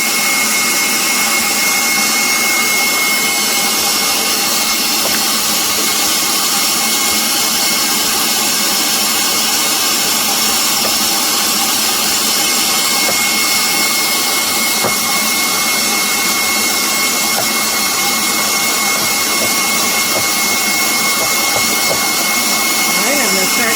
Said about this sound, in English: I'm just going to try to whisk this together a little bit